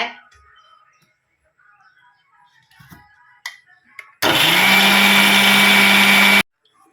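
After a few quiet clicks and handling noises, a mixer grinder grinding green chillies roars loudly for about two seconds, then cuts off abruptly.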